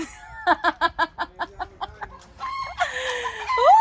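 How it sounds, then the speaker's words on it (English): Chicken in a DIY aviary run gives a rapid series of loud, close clucks, then a squawking, crowing burst at the end, with no speech. "What did you do to the chicken, Joe?"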